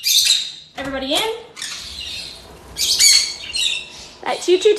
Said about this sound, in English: All right, birds.